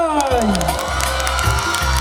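Festival crowd at an open-air celebration cheering and whooping with some clapping, a brief loud burst of many voices filling the space.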